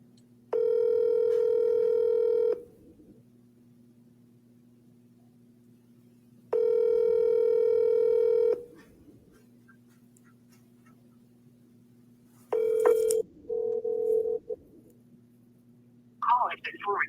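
Outgoing phone call on a speakerphone: two long ringback tones with a pause between, then a shorter burst of tones as the call is forwarded, over a steady low background hum.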